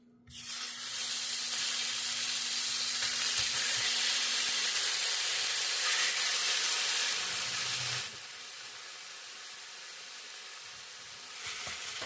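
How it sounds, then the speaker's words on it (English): Ground turkey Italian sausage, casings removed, goes into a preheated pan and sizzles in a loud, steady hiss that eases a little partway through. "So in a preheated pan, I'm just going to start adding all of the sausage and just remove the casing."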